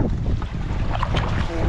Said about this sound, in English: A little windy out there.